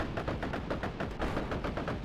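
Booming cannon and gunfire from Soviet artillery in a WWII real-time strategy game, a dense run of rapid, loud thuds and blasts filling the whole stretch with no pauses.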